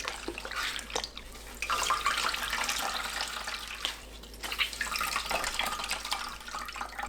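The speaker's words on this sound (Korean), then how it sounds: "남은 물 모두 넣고 한 번 더 치댑니다." Chestnut pulp kneaded by hand in water to release starch, a continuous wet sloshing and squelching close by with small splashes and drips.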